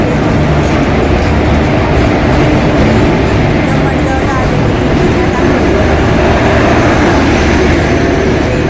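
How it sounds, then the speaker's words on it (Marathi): A train arriving at a station rumbles steadily and loudly close by, a continuous heavy rolling noise with faint rattling, no speech. "त्याचबरोबर एक ट्रेन आली"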